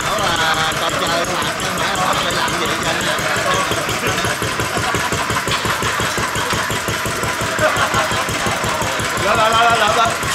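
An old stationary engine mounted up high runs loud and steady, its rapid knocking chug repeating evenly throughout, while people talk over it.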